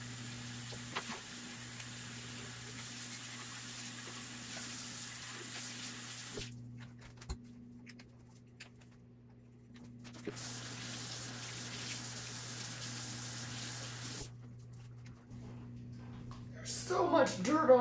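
A tap runs water into a sink to rinse off a potted plant, a steady hiss and splash that stops and restarts, with some handling clatter near the end.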